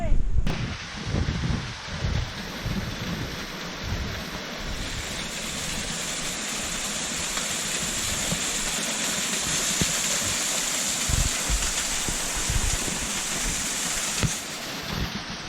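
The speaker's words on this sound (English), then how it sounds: "Waterfall number 1." A waterfall in the Monteverde cloud forest roars as a steady, dense rush of falling water, loud and continuous, with a few low thumps near the start.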